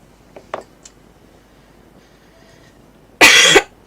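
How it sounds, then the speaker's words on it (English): A woman gives a single loud, harsh cough near the end, preceded by a few faint clicks and light taps in a quiet room. "She does not like it when I cough though"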